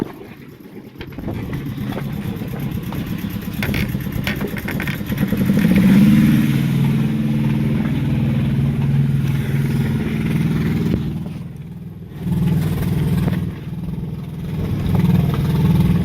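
A boat's outboard motor drones steadily and rises in a revving surge, loud and close, with clattering and wind buffeting throughout, on a motor with a steam problem.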